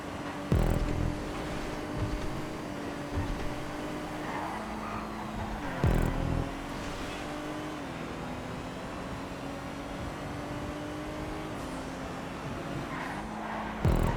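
Sedan race cars in a GTA 5 event race drone steadily through the whole stretch, with engine pitch stepping up and down through gear changes and a few sharper bursts of noise.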